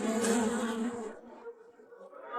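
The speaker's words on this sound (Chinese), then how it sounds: "这些蜜蜂都是我画的牡丹花招来的" Close insect buzzing, like bees, drones loudly then thins out halfway through, leaving a faint hum with soft background noise.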